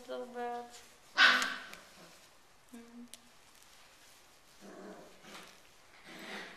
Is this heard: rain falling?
no